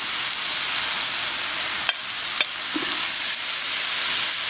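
Diced pork for a Mexican-style pork chili hits a hot pan and is stirred, giving a steady, close, loud sizzle broken by a couple of sharp utensil clicks.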